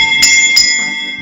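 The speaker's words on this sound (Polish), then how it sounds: "takim małym dzwonkiem, który nazywa się sygnaturka. Gdy pociągniemy za ten sznurek," A small sanctus bell in a church, rung by pulling a cord, gives a couple of bright, ringing strikes close by that blend into a lingering metallic tone.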